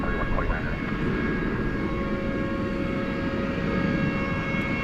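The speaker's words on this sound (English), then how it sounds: "It's an Airbus A321." A Volaris Airbus A321 jet rumbles steadily at a distance at night at Dallas Fort Worth airport, a broad, even engine roar with no pauses throughout.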